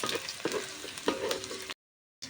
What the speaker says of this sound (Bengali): এখানে দিয়ে দেবো আমি আধা চামচের মতো গোটা সরিষা এগুলোকে হালকা ব্রাউন কালার করে নিতে হবে